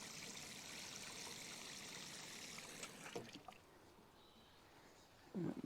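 Water from a jug trickles and pours into a container to soak corn seedlings raised in a big box, a steady, quiet stream that fades near the end before a brief louder splash.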